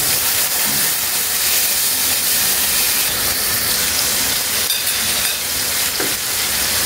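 Loud, continuous sizzling and crackling of pork frying in a hot pan, a steady hiss with occasional pops.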